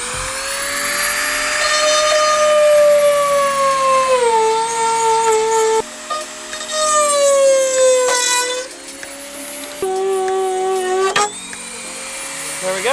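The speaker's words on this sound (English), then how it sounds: "now I'm just using a Dremel to get these last little bits out here." A Dremel rotary tool grinds leftover material out of a Rocket Bunny-style car bumper, giving a loud, close, high-pitched whine whose pitch sags and climbs as the load changes, with short breaks between passes.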